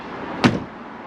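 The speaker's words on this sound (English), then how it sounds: "So I'll shut this door." The door of a Concorde motorhome is shut once, a single sharp close standing out against quiet background with no talk.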